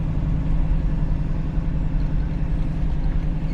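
A 1973 Chevrolet Camaro four-speed engine idles a little high, a steady loud low rumble that holds evenly throughout with no pauses or talk.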